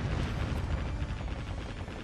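Ship cannons in the naval video game Warship Gunner 2, a dense, continuous rumble of booming gunfire and blasts that stays loud with overlapping impacts throughout.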